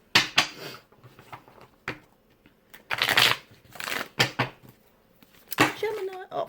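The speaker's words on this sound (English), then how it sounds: "I'm going to do a little quick shuffle here" Tarot cards are shuffled quickly in short bursts of riffling and flicking, close up, with a few quieter taps and shuffles between the louder bursts.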